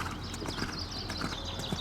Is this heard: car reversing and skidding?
no